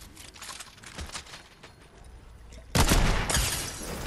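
Gunfire exchange in Fortnite, with sniper rifle shots from across the map, a scattering of faint distant shots followed by a sudden louder burst of close firing near the end.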